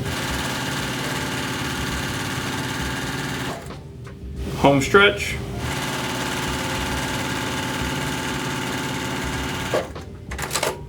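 A sewing machine stitches a half square triangle quilt block in a steady whirring run. It pauses briefly midway while a voice speaks, then resumes and stops near the end.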